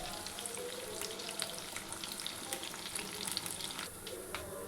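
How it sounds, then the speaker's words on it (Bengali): Chicken pieces frying in a pan until dark brown, a steady close crackling sizzle with bright spitting oil running throughout and no voices. "আমরা চিকেনটাকে একটু ভাজবো, যতক্ষণ না গাঢ় বাদামি রং হয়।"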